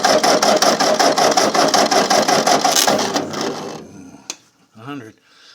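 A 1947 Ford 8N tractor engine cranks over for a cylinder compression test, a loud steady rhythmic chugging for about four seconds that stops abruptly, followed by a brief click and a short voice.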